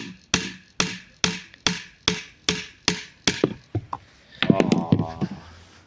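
Eight evenly spaced hammer strikes ring sharply on a Skoda Octavia CV joint, close and loud, followed by a softer clatter and rattling.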